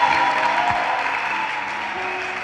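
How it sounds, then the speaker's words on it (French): A church congregation applauding and cheering together, a steady wash of clapping that fills the room and holds evenly throughout, with some voices mixed in. "Celui qui m'aime peut acclamer maintenant."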